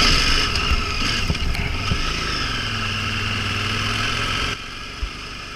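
A KTM motorcycle engine drones steadily under load on a mountain climb during a France-to-Italy road trip, a continuous rough mid-pitched hum with wind noise that drops off sharply near the end.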